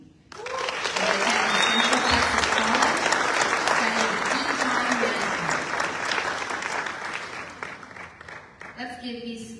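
An audience at a Fort Cavazos military family scholarship award ceremony claps loudly for a military spouse recipient, a dense sustained ovation lasting several seconds with voices mingled in, tapering off toward the end.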